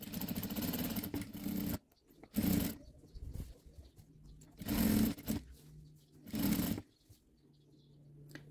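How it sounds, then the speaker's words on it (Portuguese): Sewing machine running in several separate bursts while fabric is stitched onto a tablecloth in a straight line, each run lasting about a second with short pauses between, close and clear with no talk. "É só costurar, não vai ter segredo. Linha reta, ó."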